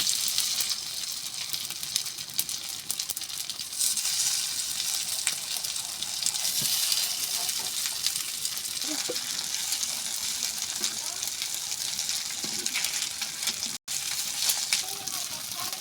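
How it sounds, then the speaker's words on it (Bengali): Semolina pitha frying in hot oil with black mustard seeds and curry leaves, a dense, even sizzle that crackles nonstop and close for the whole stretch, with faint spatters throughout. "দেখুন লাল লাল করে ভেজে নিয়েছি হালকা করে"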